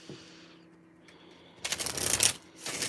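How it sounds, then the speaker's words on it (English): Oracle cards shuffled by hand in two quick bursts of crisp papery riffling, close and fairly loud, following a quiet stretch of faint room hum. "Let me do another shuffle."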